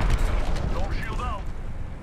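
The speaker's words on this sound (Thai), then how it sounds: "อุ้ยโดนระเบิดตัวเองมอส" Loud booming blast from a grenade in a tactical multiplayer shooter scrim, a dense low rumble filling the whole two seconds with sharp crackling debris and faint warbling tones over it, with no talking.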